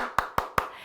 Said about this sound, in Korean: 박수 쳐줘야지요.